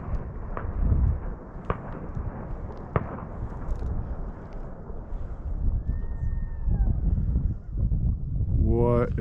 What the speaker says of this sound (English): Someone just lit off fireworks?